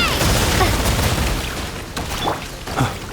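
Bombs going off in Genshin Impact, a loud rumbling blast that fades out with a few sharper pops and crackles, all over a dense bed of game sound.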